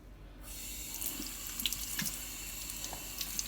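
Tap water runs steadily into a kitchen sink while a baking tray is rinsed, a close, continuous rushing stream with faint splashes.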